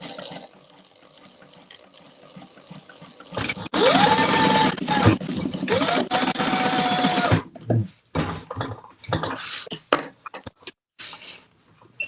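A sewing machine top stitching fabric runs in two loud, steady bursts of rapid stitching, with quieter handling noises and brief talk before and after.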